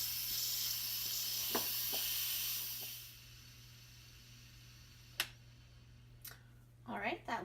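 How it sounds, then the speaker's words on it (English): An Instant Pot cooking presoaked chickpeas lets out a steady steam hiss that fades after about three seconds. A couple of sharp clicks follow as the float valve drops, and a voice briefly starts at the end. "that little click means it is done venting, and the little metal thing has popped down, which means it's safe to open"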